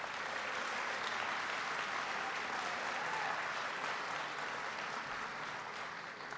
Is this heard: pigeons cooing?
no